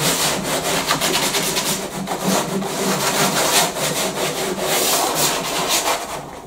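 A flexible GRP topcoat is rubbed down by hand, a loud, continuous rasping scrape in quick back-and-forth strokes, close up with no talking.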